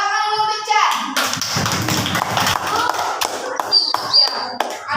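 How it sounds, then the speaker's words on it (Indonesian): Schoolchildren clap in a brief burst of hand claps in a classroom, mixed with children's chatter and a teacher's voice speaking over it. "Tepuk tangan dulu"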